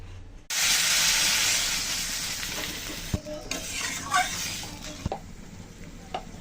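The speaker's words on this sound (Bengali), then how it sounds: "তরকারি দেখুন কত সুন্দর ফুটতে শুরু করে দিয়েছে।" Curry of pumpkin greens and puti fish bubbling and sizzling in a pot, a loud steady hiss close by with a few sharp clinks of stirring, no talking.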